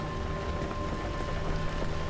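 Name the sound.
rain in Pacific Drive video game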